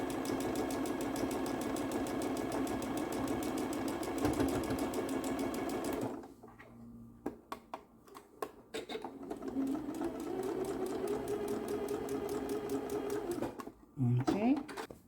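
A sewing machine stitches quilt blocks in a continuous chain, a close rapid mechanical whir that runs steadily, breaks off, then resumes in shorter bursts, with someone speaking over it.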